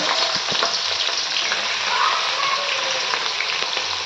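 Onions frying in hot oil for pulao birista give a loud, dense, continuous sizzle that holds steady throughout, with faint scraping of a stirring utensil underneath.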